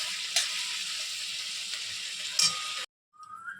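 Mashed taro being stirred in a pan after salt and turmeric go in, a steady soft sizzling scrape close by that runs for nearly three seconds, then a brief silence and faint noise.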